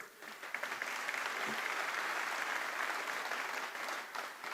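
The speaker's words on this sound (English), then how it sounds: "How about a round of applause for her?" A dinner audience at a Republican party fundraising gala applauds steadily, a dense wash of many hands clapping at an even level throughout, with no talk over it.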